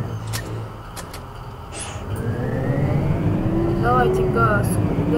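A GAZ (LiAZ) electric bus pulling away from a stop, its electric motor whine rising steadily in pitch as it gains speed, heard from inside the cabin, with people talking briefly at the start.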